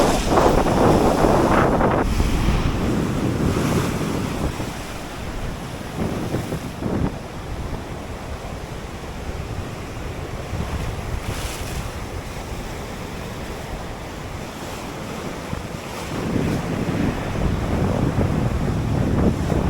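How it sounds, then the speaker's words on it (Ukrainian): Stormy sea surf rolls and crashes continuously along a Ukrainian shore, with strong wind buffeting the microphone throughout and louder surges near the start and end. "Боречко, правда, штормить, але то таке."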